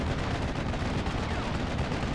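Dense, continuous battlefield gunfire from the Normandy 1944 wargame Steel Division, with artillery fire and overlapping cannon and machine-gun bursts forming a loud, steady roar with no speech.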